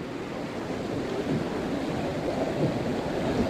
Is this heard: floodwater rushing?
yes